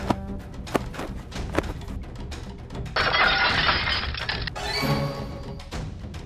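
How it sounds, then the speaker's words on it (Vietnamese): A set of cooking pots breaks in a cartoon, with a scatter of sharp knocks and clatters followed by a bright shattering crash and a second rattling burst as the pieces settle. "Thôi chết, vỡ mất bộ nồi tôi mua về tặng mẹ rồi."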